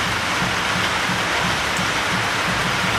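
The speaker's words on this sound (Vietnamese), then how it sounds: "Mưa lớn nữa rồi cả nhà, mưa cả ngày luôn." Heavy rain pouring all day, a loud dense steady roar of falling water close by, alone without talk.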